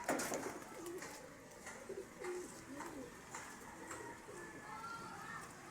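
Kurbata pigeons on a roof giving soft, repeated cooing calls, fairly faint and a little distant, with a few light chirps and quiet background activity.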